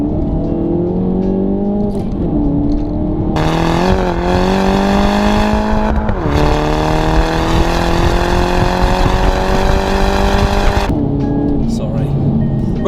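A Mini Cooper S fitted with an aftermarket exhaust revs hard and continuously for about thirteen seconds, its loud engine note climbing and falling through repeated blips with a brief lift midway, heard close up throughout.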